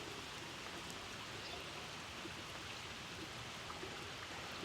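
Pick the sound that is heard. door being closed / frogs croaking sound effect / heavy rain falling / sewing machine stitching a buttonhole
heavy rain falling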